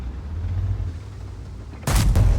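A tank gun shot striking the mantlet of an AMX M4 mle. 54 in a tank video game: a low engine rumble, then one sudden loud, heavy impact boom near the end.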